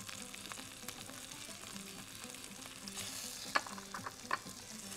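Coriander frying in a pan with a soft, continuous sizzle, with occasional stirring clicks and a couple of sharper taps near the end, fairly quiet overall.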